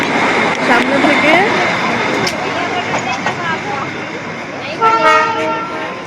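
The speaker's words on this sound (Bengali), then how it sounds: "চলে গেল ট্রেন" A Darjeeling train rumbles past close by, its wheels clattering as voices talk nearby, and a sharp horn toots near the end.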